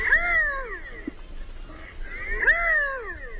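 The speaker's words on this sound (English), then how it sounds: "the male utters a kind of meowing courtship call, a bit like a gray catbird" A male redhead diving duck gives two nasal, cat-like meowing courtship calls, each a quick downward-sliding wail, spaced a couple of seconds apart over faint background noise.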